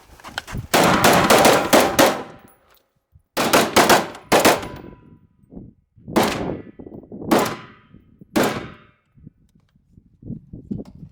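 During a 3-gun practice drill, a rifle fires loud shots in two rapid clusters, then three single, evenly spaced shots, each crack ringing out into quiet pauses.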